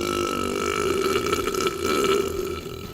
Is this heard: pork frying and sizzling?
no